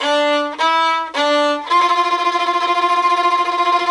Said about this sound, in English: do a tremolo. So we're going to just use fingers and wrist and do a little fast wiggle